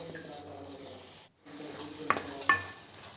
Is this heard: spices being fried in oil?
yes